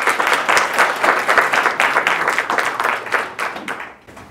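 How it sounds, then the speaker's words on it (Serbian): An audience at a Transcendental Meditation celebration in Serbia honoring Maharishi Mahesh Yogi's birthday applauds with sustained, loud, close clapping that thins and fades in the final moments. "tako da veliki aplauz"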